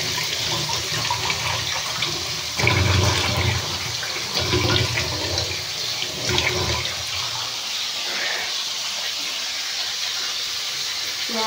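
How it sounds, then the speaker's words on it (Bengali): Tap water runs steadily and splashes as hands are washed at a kitchen sink, a continuous broadband hiss with a few louder surges, close and alone with no talking. "হাতটা ধুয়ে নেব।"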